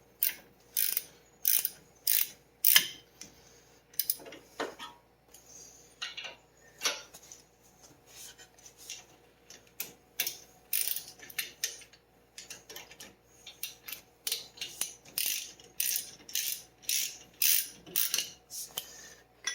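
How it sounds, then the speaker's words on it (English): Ratchet clicks rapidly on brake bolts of a Volkswagen MK7 Alltrack during a brake rotor and pad job, in repeated bursts of quick ticking strokes with short pauses, close and clear. "we'll get these just snugged up here and then we'll torque them"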